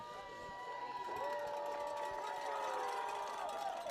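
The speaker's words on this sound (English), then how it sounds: "This is a pretty excited crowd, the biggest crowd of the season, homecoming." Excited homecoming crowd at a high school football game between Harlan County and Anderson County, a steady mass of voices and cheering from the stands, with whistle-like tones rising over the roar.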